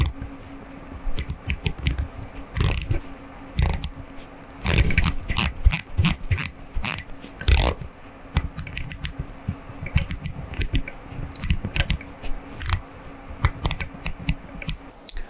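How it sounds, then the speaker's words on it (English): Aluminium bezel of an Omega Seamaster No Time to Die watch ratchets through a long run of crisp, close clicks, some rapid bursts and some spaced singly, with no talking. "But does this bezel give clicks that are worthy of James Bond?"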